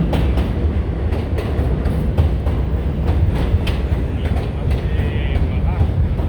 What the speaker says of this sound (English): The train is arriving.